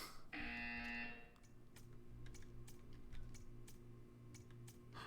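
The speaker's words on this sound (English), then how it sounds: "When you hear the buzzer, Please. stare at the art." A buzzer in the Portal 2 video game sounds as a loud, steady tonal drone for about a second, then fades into quiet ambient hum with faint ticking clicks.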